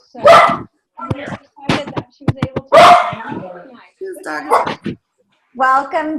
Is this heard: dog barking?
yes